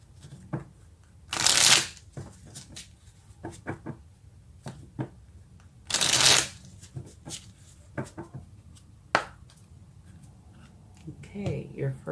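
Tarot cards being shuffled: two loud riffling bursts of cards, with light taps and card handling between them and a voice speaking quietly at times.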